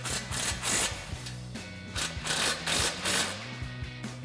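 A impact wrench with a short extension and 14mm swivel socket tightens exhaust spring bolts on a 2024 Tacoma, rattling in short repeated hammering bursts, fairly faint and close.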